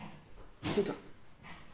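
A dog lets out a single brief, muffled bark or yelp indoors in a home, a short burst standing out from an otherwise quiet room with faint noise before and after.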